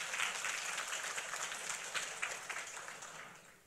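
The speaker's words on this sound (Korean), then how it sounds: "우리 하나님께 박수로 영광 돌리겠습니다" A church congregation applauds steadily during a worship service, a dense patter of clapping that gradually fades toward the end.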